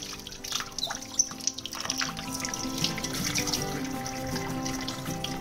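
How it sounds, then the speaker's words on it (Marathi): Urad dal being rinsed by hand in water in a kitchen, a steady running, splashing wash with trickling and sloshing throughout, close and moderately loud. "उडदाची डाळ सुद्धा मी अशी 2-3 पाण्यातून धुवून घेते।"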